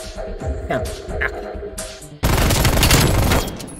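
An LMG in the video game Call of Duty Black Ops Cold War fires a loud sustained burst of rapid gunfire in the second half, after quieter game sounds and rumbling.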